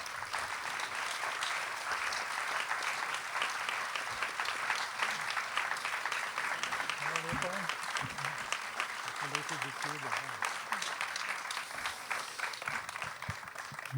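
Warm applause from a festival audience at the Okarina festival in Bled, a steady wash of clapping throughout, with someone speaking briefly underneath partway through.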